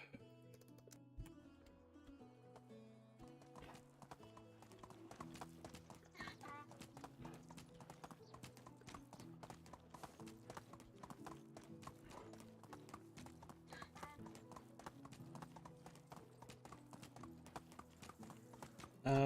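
Donkey hooves clip-clop steadily in Medieval Dynasty, a brisk, even walking rhythm heard close over a game soundtrack with sustained musical tones, keeping up without pause through the whole passage.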